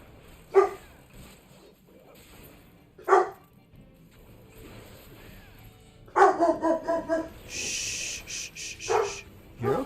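A pet puppy indoors lets out several sharp, close barks and yips in separate bursts with quiet gaps between them, with faint background sounds underneath.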